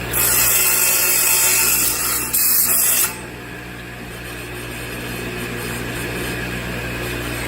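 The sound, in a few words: saw blade cutting copper tube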